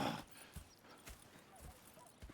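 Horse hooves in Red Dead Redemption 2 give a faint, steady clip-clop of evenly spaced thuds over a low ambient outdoor bed.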